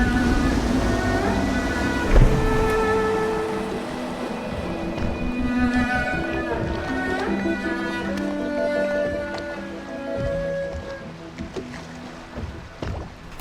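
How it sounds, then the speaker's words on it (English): A boat being piloted in Dishonored churns steadily through the water with a low, continuous rumble and wash, layered with tonal ambient sound and no talking. "I should concentrate on piloting this boat."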